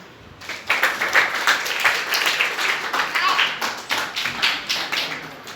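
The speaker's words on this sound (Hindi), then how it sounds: "तालियां बजाएं।" Students at a government senior secondary school in Gurugram clap together during a yoga meditation session, a steady patter of many hands with uneven individual claps, loud and fairly close, starting after a brief pause.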